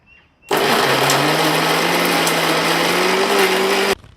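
A mixer grinder jar grinding old mattress cotton, its motor starting abruptly and running as a loud, steady whine for about three and a half seconds, then cutting off, close by and without talk.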